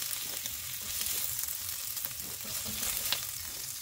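Chicken stir-fries in a pan for Hokkien noodles, giving a soft, constant sizzle and crackle with small scattered pops, fairly quiet and with no voices.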